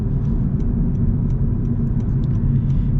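A 2025 Honda Civic's entry-level engine with a CVT pulls under acceleration, giving a steady, smooth low rumble heard from inside the car, with faint ticks and road noise over it and no talk.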